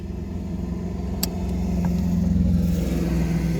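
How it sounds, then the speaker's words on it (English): A passing Jeep climbs a quiet mountain road, its mid-pitched engine a steady drone that swells slightly as it nears, heard alone without talk. "Oh, there's a Jeep."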